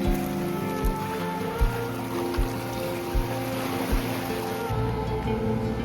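Gentle sea waves wash onto the beach at Salou, Spain, in soft repeated surges about every second, a steady near wash of water with no voices.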